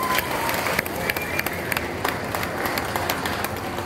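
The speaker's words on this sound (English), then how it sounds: "Can we hear the applause from you again?" A festival audience applauds after a drum group's performance, with dense, sustained clapping from a crowd throughout and a few voices mixed in.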